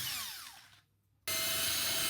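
A drill-mounted wire brush whirs as it cleans copper pipe before soldering. The spinning rises and slows, drops out briefly, then returns at a loud, steady pitch.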